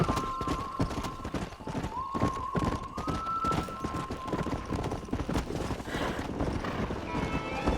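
A stallion gallops in Red Dead Redemption, its hooves clip-clopping in a steady rapid rhythm with a few whinnies rising above them, close and constant throughout.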